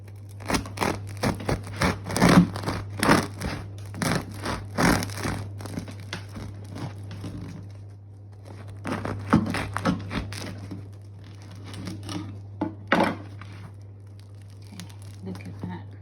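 A bread knife saws through a slightly warm loaf of sourdough in a series of rhythmic crunchy strokes, rasping in bursts with brief pauses, close and moderately quiet over a low steady hum.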